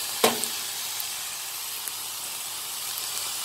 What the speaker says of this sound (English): Okay, then you have to stir it.